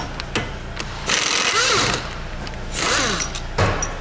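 A power tool drives repeatedly in short loud bursts while unscrewing the drive shaft of a Volvo XC90 during a rear hub replacement, each burst with a whirring rise and fall, broken by brief pauses and clicks.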